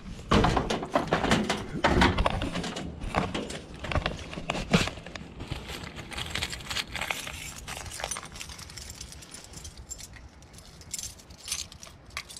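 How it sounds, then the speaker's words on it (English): The frozen door of an RV van is worked loose by hand, giving repeated thunks, knocks and rattles with scattered metallic clicks, loud at first and gradually thinning out into quieter scraping and handling noises. "Right now, just gonna see if I could get this door unfrozen."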